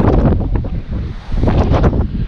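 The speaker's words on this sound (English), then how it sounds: "Quite exposed here, so we're catching a bit more of the wind as well." Strong wind buffets the microphone on an exposed stretch of coast near Punta del Hidalgo, with steady low rumbling gusts that swell and ease over a couple of seconds. No voices are heard.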